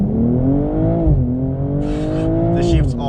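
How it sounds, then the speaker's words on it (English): A BMW M240i xDrive launches hard under launch control with the gearbox in Sport and traction control off, its engine roaring loudly and climbing in pitch, dipping briefly at a quick gearshift before climbing again, with tyre or wind hiss joining near the end. "Launch control active."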